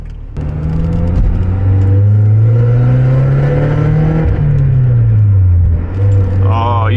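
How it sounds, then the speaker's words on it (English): Mazda Miata with 116 horsepower pulling away on a drive, loud close engine drone rising and falling in pitch through a gear, heard from inside the car with a brief shift dip near the end. "Alright, so it's my time to go out for a little drive."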